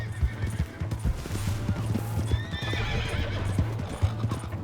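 A horse in the Red Dead Redemption 2 video game neighs with a rising whinny partway through, over steady clip-clop hoofbeats and a low droning game background; no one speaks.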